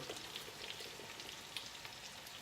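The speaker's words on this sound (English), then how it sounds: "You can hear the sizzle, so you know the butter's ready to meet it" Butter sizzles steadily in a hot pan, a continuous crackling hiss with small popping spurts, close and even throughout.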